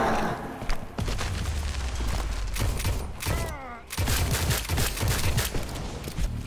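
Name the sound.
gunfire from a video game, Call of Duty Zombies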